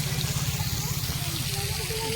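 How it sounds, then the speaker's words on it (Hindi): Water pours steadily from the matted hair of a Shiva statue at a Radha Krishna temple, a constant close splashing rush that fills the whole clip. "ଏଠି ମହାଦେବଙ୍କର ଜଟାରୁ ପାଣି ପଡ଼ୁଛି"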